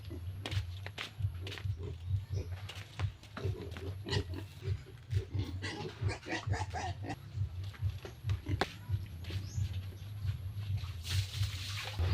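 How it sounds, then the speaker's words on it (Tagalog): Pet pigs eating feed on a farm, with a steady stream of wet chomping, slurping and snuffling close up, broken by occasional grunts and feeder clatter over a constant low hum. "magkain tayo sa ating alagang baboy"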